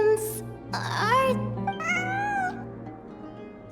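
A cat meows several times, loud and near, in rising and falling calls over a steady low hum, with a brief high squeak at the start and a faint click at the end.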